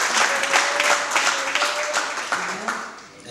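A church congregation breaks into steady applause, broad and fairly loud, with voices and cheers mixed through the clapping before it tapers off.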